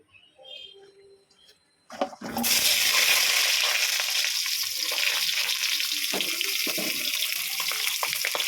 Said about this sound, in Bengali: আমার তেলটা খুব ভালোভাবে গরম হয়ে গেছে। আমি পটলগুলো ভেজে নিচ্ছি।